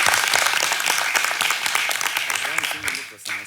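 An audience applauds at an anniversary company speech event, dense sustained clapping that stays loud and then thins and fades toward the end, with voices mixed in.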